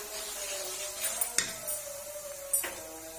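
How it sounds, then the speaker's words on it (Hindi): A spoon scraping and clinking in a pan while rice flour is stirred quickly off the flame, with a few sharp metallic knocks against the pan over a soft steady background hum. "अब चम्मच जल्दी जल्दी घुमा देने।"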